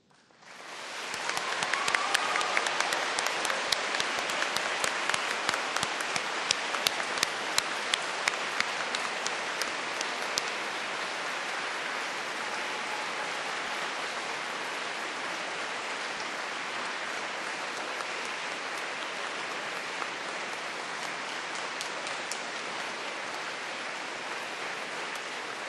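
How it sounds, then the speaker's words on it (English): A large audience at a Cardiff University graduation ceremony applauds for a long, sustained stretch, a dense even roar of many hands clapping with no talking. "giving them an enthusiastic round of applause"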